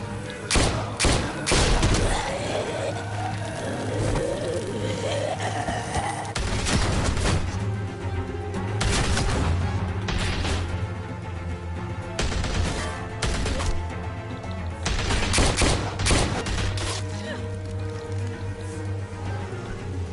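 Gunfire in the video game Telltale's The Walking Dead: sharp shots and heavy thuds burst out at irregular intervals over a low background hum.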